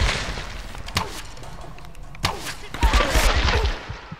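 Gunfire in Tomb Raider Definitive Edition: scattered, punchy shots and impacts, several in quick succession toward the end, over dense game noise.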